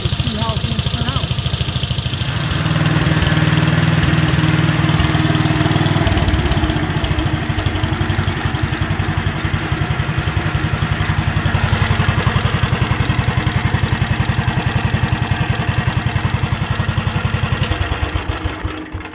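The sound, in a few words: 1957 Wheel Horse RJ35 lawn tractor engine idling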